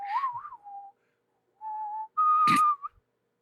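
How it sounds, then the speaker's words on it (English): Someone does a cowboy-style whistle: a wavering tone, a pause, then two sustained notes, the last sharper and louder, clear and close with no talk. "You're doing like the cowboy whistle now."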